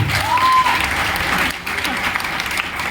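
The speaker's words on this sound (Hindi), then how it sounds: "ताली भाई के लिए।" Applause and clapping from the attendees of a DTM LDP training session in Gurgaon, Haryana, honoring a trainee: a steady wash of hands that runs the full length, with a voice speaking over it.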